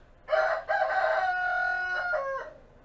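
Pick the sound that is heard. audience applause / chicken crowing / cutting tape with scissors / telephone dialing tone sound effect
chicken crowing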